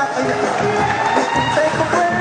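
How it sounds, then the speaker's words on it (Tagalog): An audience breaks into loud, continuous applause mixed with cheering and whoops at a DBL opening day event, as a guest is welcomed on stage. "Isa po malakas sa palakpak."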